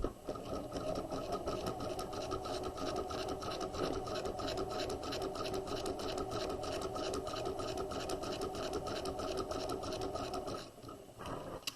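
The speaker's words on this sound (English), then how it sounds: "We're going to stay stitch around the notched edge of our front facings." A sewing machine runs in one long, even burst as it stay stitches along the notched edge of a jacket's front facing, a close, steady whir that stops near the end, with no one talking.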